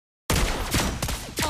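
Rapid gunfire from the hero Lesley in the Mobile Legends mobile game, a quick burst of several sharp shots over about a second, loud and close with no voices.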